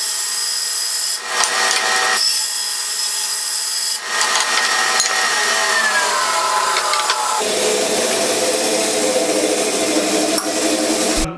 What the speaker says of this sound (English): go to the bandsaw, and just start ripping.